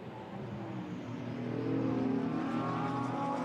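GT4 race cars at the Paul Ricard circuit cross the finish line, a steady loud engine roar with shifting harmonic tones that swell slightly as they pass, with no talk over it.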